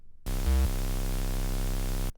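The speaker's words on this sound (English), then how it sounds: "It mainly just sounds like white noise, but you throw this distortion on it" A harsh, buzzing distorted synth tone starts abruptly, holds steady for about two seconds with a brief louder jolt near the start, then cuts off.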